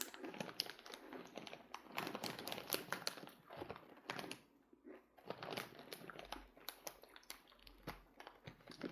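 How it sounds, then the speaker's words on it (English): Crisp, rapid crunching and crackling of pork rinds being chewed with dentures, up close and continuous with irregular bursts and brief pauses, no voices. "Chicharrónes, also known as pork cracklings, are very crunchy."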